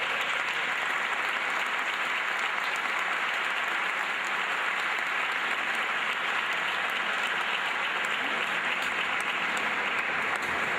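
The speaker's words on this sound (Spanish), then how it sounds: "le pido un fuerte aplauso por lo que ha dado" Steady applause from a large audience, a dense wash of clapping that holds at an even level without a break.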